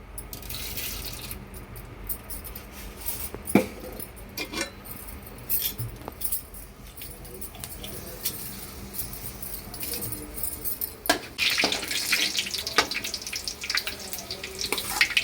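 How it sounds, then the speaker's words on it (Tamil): Fenugreek seeds sizzling and crackling in hot cooking oil in a home kitchen, a steady hiss with scattered pops that grows louder and busier toward the end. "எண்ணெய் ஹீட் ஆகிடுச்சு இப்போ வெந்தயம் சேர்த்துக்கலாம்"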